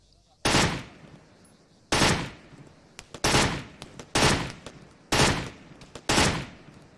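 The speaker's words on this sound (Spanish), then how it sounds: "Pues esos tiros eran enemigos entonces." Gunfire in the ArmA 3 combat game during an online co-op match: six loud, sharp bursts of shots at roughly one-second intervals, each with a brief decaying tail, heard close with no talking over them.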